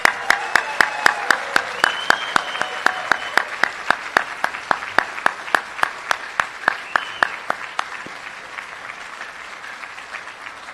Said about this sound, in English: let's go ahead and give everyone a round of applause.